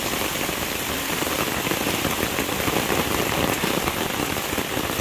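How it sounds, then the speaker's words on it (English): Rain falling during a thunderstorm on a hiking trail in southern Vermont, a loud, steady, close hiss of drops pattering on surfaces with no letup, no voices. "And it's raining."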